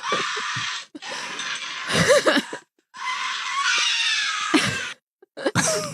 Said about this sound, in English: That's a great scream.